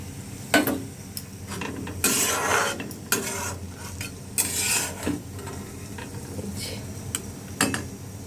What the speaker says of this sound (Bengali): আর এরপরে এটাতে ওই শুকনো লঙ্কা দুটো ভেজে নেব।